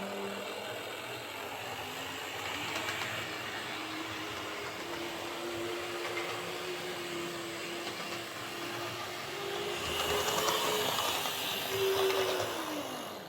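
A small electric motor in an Airfix Class 31 model locomotive runs in reverse, giving a soft steady whir with a faint gear ratchet, and a thin whine that rises and grows louder near the end.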